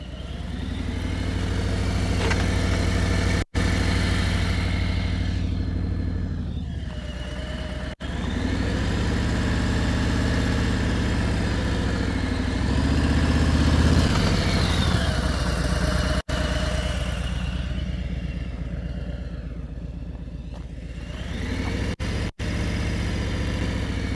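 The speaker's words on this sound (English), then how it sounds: "I keep hearing that throttle drop." A motorcycle engine idles steadily and close up during a riding lesson, its throttle dropping and rising with shifts in tone, running continuously without talk.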